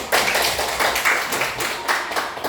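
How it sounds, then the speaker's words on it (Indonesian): A group claps together in brisk, slightly uneven bursts, loud and close, with no talking over it. "tepuk tangan dulu."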